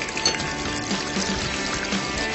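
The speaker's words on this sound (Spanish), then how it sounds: "Y un poco de aceite de oliva." Olive oil pours into a lemony surimi salad dressing in a short, steady, close trickle with no talk.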